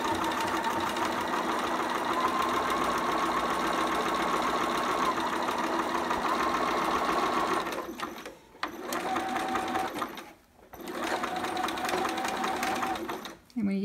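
A sewing machine runs in fast, steady bursts while stitching a romper seam, a close mechanical whir broken by two short pauses for backstitching, with someone talking over it.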